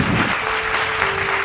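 A congregation at a Tamil Christian church service claps, a brief, dense patter of applause with a faint tone held underneath.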